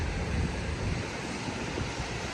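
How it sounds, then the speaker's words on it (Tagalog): Moderate ocean waves wash steadily onto a beach in El Nido, Palawan, a continuous broad roar with gentle surges, mixed with some wind rumble against the microphone. "Mas moderate yung alon dito kaysa dun sa Nakpan."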